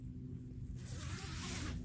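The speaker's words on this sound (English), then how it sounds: "The zip seems to run really freely" The zip on a lightweight rectangular down sleeping bag is drawn along in one smooth, quiet pull lasting about a second, close to the microphone against low background hum.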